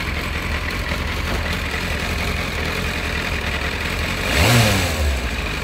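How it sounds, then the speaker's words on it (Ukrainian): A Yamaha FZS 600 Fazer motorcycle engine with freshly synchronized carburetors idles steadily close by, then gives one quick throttle blip that swells loudly and falls back to idle, with no talking. "Ну, і пробуємо газувати."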